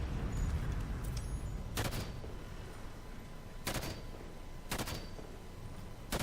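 Gunfire in the video game Halo 5: Guardians, Legendary campaign mission Evacuation, with three sharp, separated shots cracking over a steady low rumbling battle ambience.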